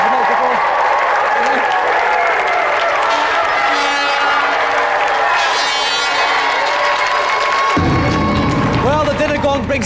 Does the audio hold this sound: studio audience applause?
yes